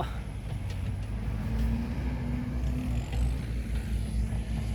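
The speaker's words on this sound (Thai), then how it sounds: "เสียงท่อจะไม่โหดมากนะ แต่ว่าแรงบิดมาเต็มครับ" A car's exhaust and engine pull away with steady, loud low rumble, revving under load through a continuous drone with no voices.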